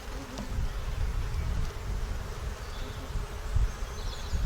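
Honey bees buzz in a dense, continuous swarm around an open hive being inspected, a steady low hum with wind rumble underneath.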